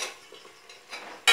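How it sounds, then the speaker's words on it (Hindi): Cashews tipped into a pan of cooking tomato masala for green matar masala, a faint clatter and stir of metal utensils followed by a sudden loud rattle and sizzle as they land in the pan. "अब हम इसमें जो काजू लिए थे अपने इसको डाल देंगे।"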